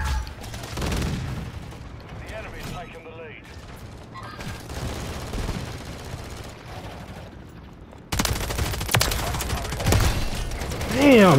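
Rapid gunfire in Call of Duty: Modern Warfare 3 during a crowded Shipment-map match: dense bursts of automatic shots and sharp cracks, with a louder, busier barrage near the end and voices talking underneath.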